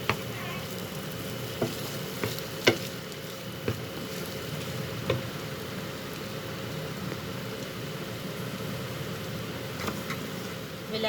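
Egg and potato scramble sizzling steadily in a hot pan over a raised flame, with occasional sharp clicks and scrapes as it is stirred, moderately close and continuous.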